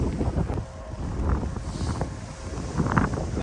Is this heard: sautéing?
no